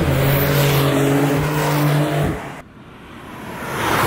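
Supercar engine on a race track, a loud steady drone with strong harmonics that cuts off sharply midway, followed by rushing road and wind noise building again toward the end.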